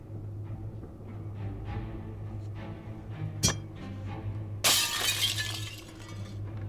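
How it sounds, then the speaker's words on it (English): Mirror glass shatters under a hammer blow in the Shadowgate remake, a sudden loud crash with a bright spray of falling shards after a brief earlier impact, over a steady low hum. "a good section of the mirror shatters, revealing metal underneath."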